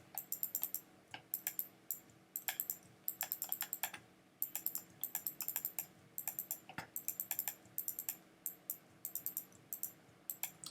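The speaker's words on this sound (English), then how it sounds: "So you can hear my clicking away here." Rapid computer mouse clicks and keyboard typing during photo retouching of a scanned film portrait, with cloning work. The crisp, close clicks come in quick clustered bursts with brief pauses, alone against a quiet room.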